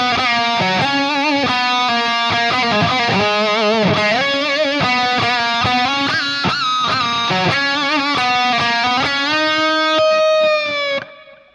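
A distorted electric guitar plays a solo with bends and vibrato, on fast runs and sustained notes, ending on a long held bent note that cuts off. Loud and up front, no talking.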